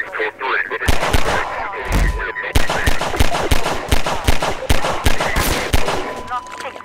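Rapid bursts of gunfire in Half-Life 2, loud and close, with repeated sharp shots in a steady rhythm over about seven seconds.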